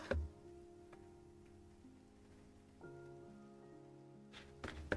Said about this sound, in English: as lovely and soothing as the rain is, it's also Minecraft rain and therefore extremely annoying